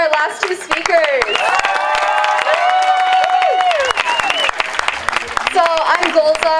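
A crowd at a Bay Area labor conference for Palestine claps and cheers for two departing speakers, dense rapid hand claps with whoops and shouting voices mixed in, loud and close, running the whole stretch.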